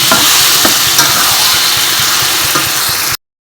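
Chicken scraps sautéing in hot oil in a pan give a steady, close sizzle, with soft scrapes and knocks from stirring for about three seconds before the sound cuts off.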